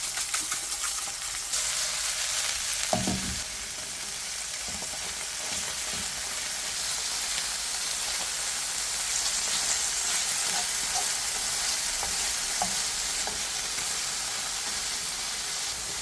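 Chicken livers sear in a pan of butter and oil, a steady broadband sizzle that runs the whole way with a few brief clinks near the start and no talking.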